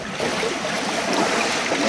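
Water sloshes and splashes continuously as a brush stirs aquarium filter media, a steady close-up churning with no pauses.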